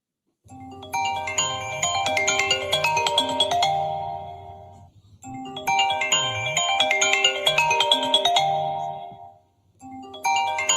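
A cell phone ringtone plays loudly through an auditorium, a bright chiming melodic phrase repeated in long cycles with brief gaps between them, alone with no talk over it.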